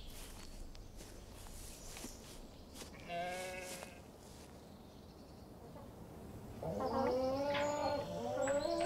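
Sheep and goats give a short bleat and then a longer, louder run of overlapping bleats near the end, with soft footsteps and faint birdsong in the background.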